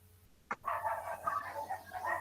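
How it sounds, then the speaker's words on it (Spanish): Dogs heard over an online class call give a sharp yelp, then a string of barks and whimpering yips, close and fairly loud over a low electrical hum. "¿es su audio el que ladran los perros?"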